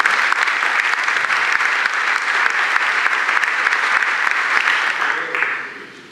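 An audience at a foundation event gives sustained, dense applause that holds steady for several seconds before tapering off at the end.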